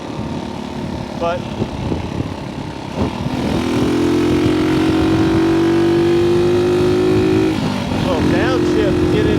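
A 1964 Honda C200 motorcycle engine revs hard at speed, its buzzing note climbing through a gear shift amid wind rush while a rider talks over it, loud and close.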